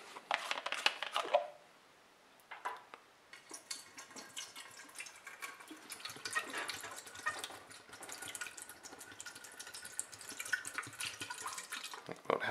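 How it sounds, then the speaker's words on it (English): Hair developer is poured into a container for a yellowed plastic rejuvenation experiment, giving a faint, close liquid trickle and splash with a short pause, then a steadier pouring stream. "So what we're gonna do is we're gonna pour a bunch of this hair developer in here."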